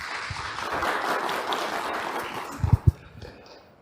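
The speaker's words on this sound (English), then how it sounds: "Please applause for him." Audience applause for a FreeBSD conference lecture on OpenVPN DCO, a soft diffuse patter of many hands spread across the room, fading toward the end with a couple of louder nearby thumps.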